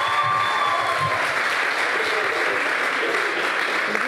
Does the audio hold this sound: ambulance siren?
no